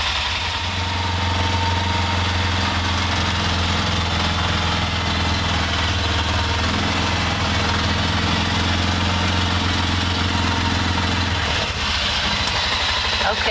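Constant loud drone of an Arctic Cat ATV engine in high gear pushing a snow plow through Colorado snow, running close and unbroken before shifting tone near the end, with a voice briefly under the noise.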